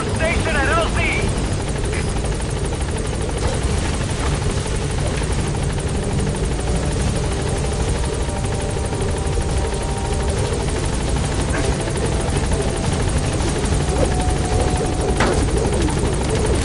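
A helicopter in Metal Gear Solid 5 arrives at a landing zone with a loud, continuous rotor drone and buzz throughout, and radio voice chatter plays over the engine.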